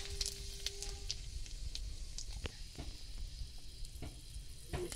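Cumin seeds and bay leaves frying in hot oil in a pan give a faint, steady sizzle with scattered small pops and crackles throughout.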